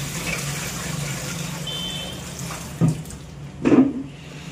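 Water is changed for soaking chips, with a tap running steadily in the background and two louder splashes near the end as water pours or is tipped out. No one speaks.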